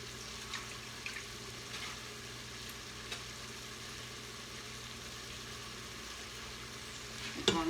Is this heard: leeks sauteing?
yes